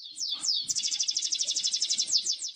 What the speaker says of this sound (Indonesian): jenis kenari ini bernyanyi dengan paruh hampir tertutup